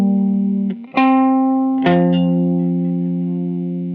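Electric guitar through a tremolo pedal in a Tom Morello "Like a Stone" style amp and pedal setup: a few sustained notes ring out and slowly decay, with a wavering effected texture, alone and fairly loud.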